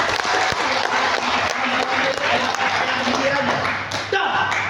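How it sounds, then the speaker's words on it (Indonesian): Loud, dense clapping from an audience at an event honouring Renner Syariah, sustained through the whole stretch with a low hum underneath and a brief bright tone near the end. "Tepuk tangan untuk Renner Syariah"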